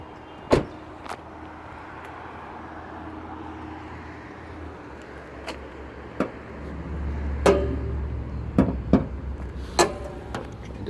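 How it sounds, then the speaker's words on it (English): A 2018 Mitsubishi ASX LS has its bonnet released and lifted. Several sharp latch clicks and knocks ring out over a low, steady background hum, with heavier thumps clustered toward the end. "I'll just pop the bonnet and give you a look underneath."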